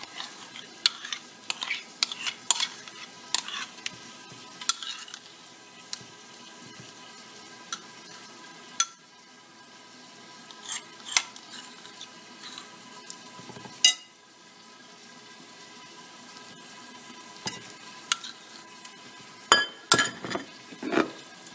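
Spices being stirred into yogurt-marinated mutton liver in a bowl, soft wet squelches and scattered spoon clinks against the dish, close and fairly quiet with no talking.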